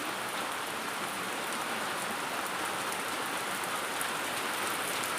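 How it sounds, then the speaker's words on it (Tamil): Heavy rain pours down in a steady, dense roar with no break and no talking, a continuous downpour heard close by. "அடி போல காட்டுது மழை."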